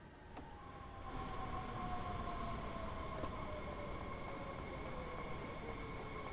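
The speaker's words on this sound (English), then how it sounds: "Let's get rid of the train so we don't have to worry about the train." Train in the railway simulator game Train Sim World 5, heard at a station platform with a steady rumble and whining tones that slowly fall in pitch, plus a brief click near the start.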